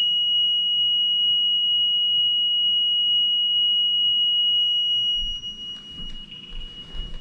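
A DSC Impassa alarm panel's warning tone drones continuously, steady and piercing, loud and close, with a lower background hum; near the end the tone wavers and other noises join in.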